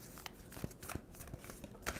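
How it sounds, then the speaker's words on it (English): Tarot cards shuffled by hand, a few soft riffling bursts and light crackles spread over two seconds, faint and close with no voice over them. "Two more shuffles for Leo."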